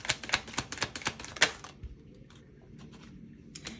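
Tarot cards being shuffled and drawn for a reading, a quick run of crisp, close papery snaps and flicks in the first half, then soft rustling and a few faint taps afterward.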